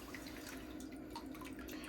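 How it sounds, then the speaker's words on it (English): A foot is lowered back into a basin of water during a foot care session, giving soft, faint splashing and dripping over a steady low background hum. "Okay, you can put this foot back in the water."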